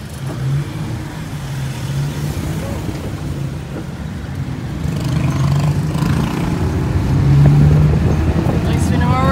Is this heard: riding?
yes